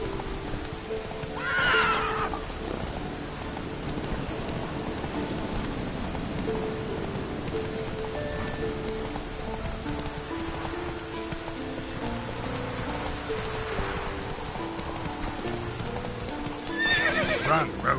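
Roach the horse galloping in a video game during rain: steady rolling hoofbeats under continuous rain, with a couple of loud whinnies near the start and the end, and no talk.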